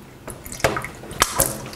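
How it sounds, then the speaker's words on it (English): Water runs through a siphon tube in a workshop setup, heard as a few distinct close drips and splashes at irregular intervals over a faint steady background. "Looks like we have water flow."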